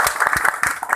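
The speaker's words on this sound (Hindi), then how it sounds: "हम उनका ताली बजा के स्वागत करते हैं" A small group claps to welcome an elderly guest arriving at a gathering, a quick close burst of distinct hand claps in uneven rhythm lasting about a second.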